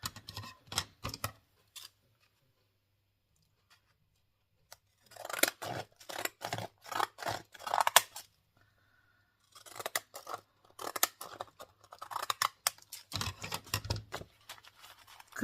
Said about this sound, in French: On va couper.